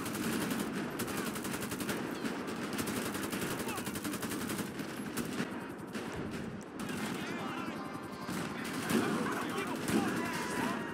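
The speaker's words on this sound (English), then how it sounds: "The realistic weapon sounds mod takes all the existing sound effects of the weapons and makes them" Gunfire in GTA 5 with a realistic weapon sounds mod: dense, rapid automatic bursts and scattered shots fill the scene continuously, loud and busy, with occasional lighter sounds in between.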